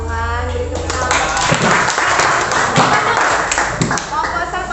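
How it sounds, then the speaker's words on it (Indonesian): Clapping from a group at a microteaching session, brisk and uneven hand claps that mix with a low hum and some background voices throughout. "Beri tepuk tangan."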